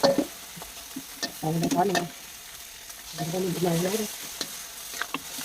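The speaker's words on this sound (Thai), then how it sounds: "ผัดให้หมูสุกก่อน ใส่วุ้นเส้นวุ้นเส้นแช่ก่อนนะ" Pork and soaked glass noodles stir-fried in a wok, with close sizzling and frying under two bursts of scraping, rhythmic spatula strokes, separated by quieter hissing.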